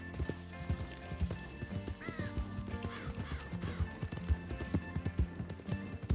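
Horse hooves clip-clopping at a steady trot with a neigh and whinny in the middle, from Red Dead Redemption 2, with game music underneath and no talking.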